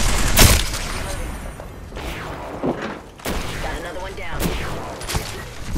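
Gunfire in an Apex Legends ranked match, including a 30-30 Repeater: sharp, loud shots and bursts land in separate clusters, with players talking over the shooting.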